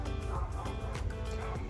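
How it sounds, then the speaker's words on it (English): Dogs bark and yip continuously in the background, with high whining whimpers mixed among the barks throughout. "Excuse the dogs."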